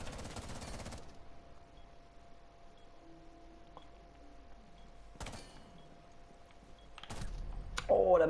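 Gunfire in Rainbow Six Siege: a loud burst of shots at the start, then quieter game ambience with a few sharp reports later and a louder burst at the end.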